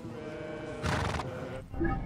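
A horse in Assassin's Creed Origins gives a short, loud whinny in the middle of a steady background of game ambience.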